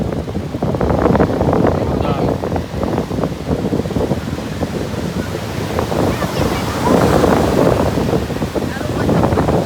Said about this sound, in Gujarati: જોરદાર મોજા આવે.